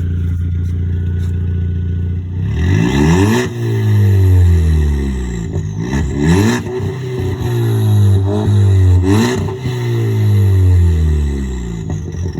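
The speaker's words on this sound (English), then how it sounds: "Give it a little rev." A VW Jetta MK7 with its muffler deleted revs up several times in quick succession, each rise and fall in pitch loud and close over a deep rumbling idle.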